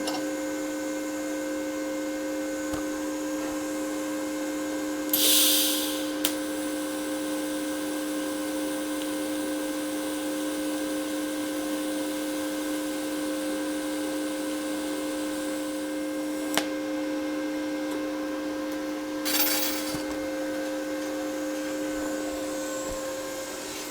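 A budget TIG welder on a 110 volt supply welds 1/4 inch stock with a steady, tonal electrical buzz and hum that runs nearly 24 seconds, broken by a couple of brief hissing bursts.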